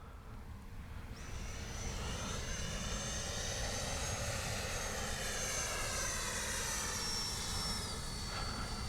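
A 70mm EDF radio-controlled JAS-39 Gripen jet flies past, its steady whooshing fan whine holding loud and continuous with a slight pitch sweep as it passes overhead.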